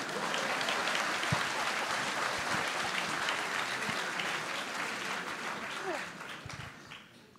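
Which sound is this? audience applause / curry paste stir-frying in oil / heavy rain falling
audience applause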